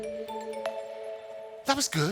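A small presentation time-warning bell rings with a bright ding that decays into a long, sustained ring, followed by a person briefly speaking nearby.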